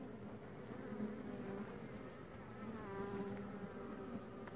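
A dense swarm of honeybees buzzes steadily at a hive during an inspection, a faint continuous drone with shifting tones from many wings close by.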